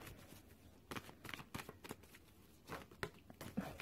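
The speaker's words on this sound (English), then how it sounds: "I'm just going to shuffle on these and lay them out." Oracle cards being shuffled by hand in repeated crisp riffling bursts, close and fairly quiet, with short pauses between and no talking.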